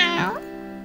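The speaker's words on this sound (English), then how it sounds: "No, Polly's a ship's cat" A ship's cat gives a single clear meow, close and fairly loud, rising and then falling away.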